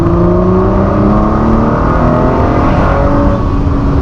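A Ford GT sports car engine driven on French country roads near Le Mans, heard from inside as a loud, steady, close drone with layered harmonic tones and little change in pitch, with no talking.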